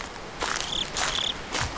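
Crickets chirp in the Slender video game, two short high trills repeating over a hissing night-time background with a few soft footstep-like thuds, moderately quiet and with no voices.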